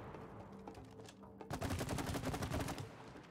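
Rapid automatic gunfire in a shooting video game, a dense rattling burst that starts after a quieter stretch and keeps hammering steadily to the end, close and loud.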